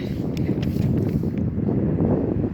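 Steady wind buffets an outdoor microphone, a continuous low rumbling roar with gusty fluctuations that stays loud throughout, with no talk over it.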